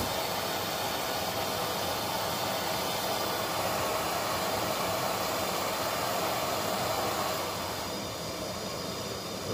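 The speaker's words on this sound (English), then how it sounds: "So, first things up, fire on the torch." A MAP gas torch burns with a steady, loud, continuous hiss that barely changes over several seconds, heard close up on its own with no voices.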